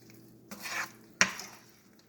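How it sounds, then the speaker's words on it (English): A spoon stirs apple pie filling in a bowl: a soft wet swish followed by a sharper clink of utensil against the bowl, close and fairly quiet. "Just keep stirring it."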